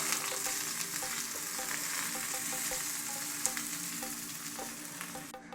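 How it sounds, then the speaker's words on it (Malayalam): Kaduk vara tempering poured into onion pachadi for a sadya sizzles loudly and steadily at close range, a dense continuous frying hiss with faint crackles, no talking. "നമ്മുടെ കടക് വറ പൂർത്തിയായിട്ടുണ്ട്. അതിനങ്ങനെ തന്നെ പുറത്തേക്ക് ഒഴിച്ചു കൊടുക്കാം"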